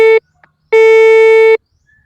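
A GS 6000 metal detector passing over metal gives two loud, clear electronic beeps, a short one followed by a longer sustained tone, with silence around them.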